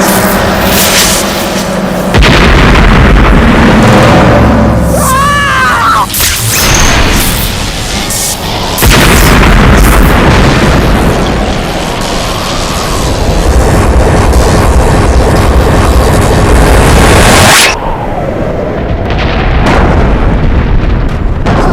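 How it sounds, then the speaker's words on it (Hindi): Very loud, deep explosive blasts with rumbling and crackling debris, several heavy booms separated by short lulls, close and overwhelming. "धमाका हुआ, धमाका।"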